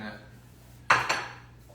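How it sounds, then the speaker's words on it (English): A pan and hot plate are handled on a kitchen counter, one sharp metallic clank followed quickly by a second lighter knock, close by against a quiet background. "We're gonna grab my little hot plate and start frying"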